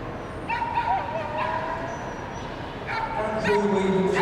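Dog barking and yipping during an agility run at the Crufts championship final, a few sharp barks rising over a loud, busy arena crowd with commentary underneath.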